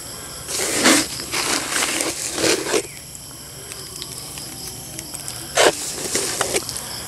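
Dry fish feed pellets for tilapia crushed under a rolling pin, heard as three rough, gritty crunching bursts separated by quieter pauses, close and fairly loud.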